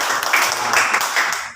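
A classroom of students clapping together on a teacher's prompt, a short dense burst of close, loud hand claps that stops abruptly near the end.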